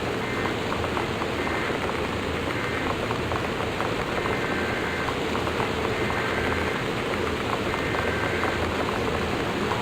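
Torrential rainstorm in Gone Home, a dense, steady roar of heavy rain drumming on surfaces with a low rumble beneath, continuous and loud throughout with no talk.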